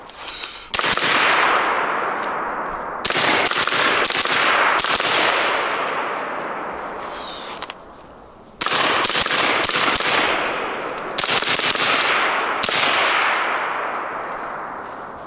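Left-handed shooting of a VKTR VK-1 piston-driven AR-15 rifle outdoors: loud, sharp gunshots, roughly a dozen, fired in quick clusters with echoing decays and short pauses between strings.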